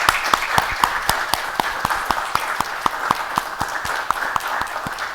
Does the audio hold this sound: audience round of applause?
yes